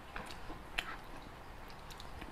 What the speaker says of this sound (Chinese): 我在咀嚼的时候，你们应该有听到那个咀嚼的 Q 的感觉的